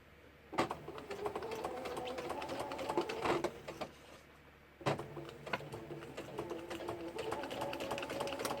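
A sewing machine stitches fabric in two close, humming runs, separated by a brief pause partway through, with no talking.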